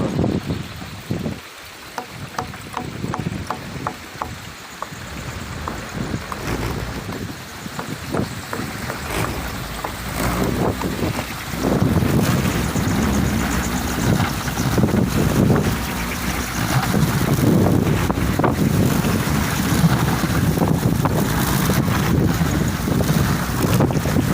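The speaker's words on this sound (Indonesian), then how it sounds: "Sepertinya diganti sama baling-baling yang lebih lebar, biar tambah angin, suaranya tambah menggelegar." A kolecer, a wooden wind propeller fitted with wider blades on a hilltop, whirs and roars in strong wind. The sound is gusty and fluttering at first, then swells into a louder, steady roar with heavy wind buffeting.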